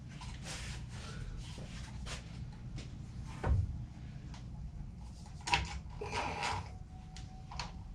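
Clamps being tightened on a glued joint of a cherry bench, scattered creaks, ratcheting clicks and knocks over a low steady background hum, with a couple of louder thuds.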